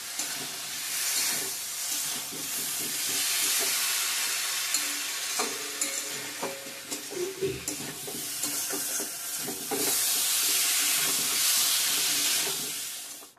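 Egg curry masala sizzling loudly in a pan with a splash of water, a steady bright frying hiss and steam crackle running throughout with occasional stirring clinks.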